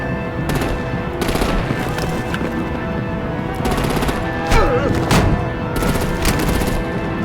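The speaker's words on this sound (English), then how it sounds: "Break out the artillery and disable their vehicles!" Gunfire in the Batman: The Enemy Within video game, loud rapid automatic bursts repeating over a steady combat rumble, with a few heavier hits among them.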